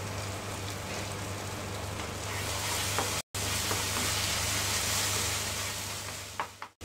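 Masala roasting in a pan for Indian-style masala pasta, a steady close crackling sizzle that runs throughout with a brief break partway, plus light scraping of stirring.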